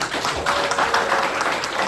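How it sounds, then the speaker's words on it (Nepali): A burst of clapping from a group of wedding guests, steady and fairly loud throughout with no voices on top. "हामी ताली बजाइदिउँ न है।"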